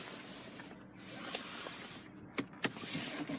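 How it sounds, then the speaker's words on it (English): Electric windows on a BMW X3 xDrive30d M Sport whir quietly up and down, ending with a couple of small clunks as they stop. "got all-round electric windows"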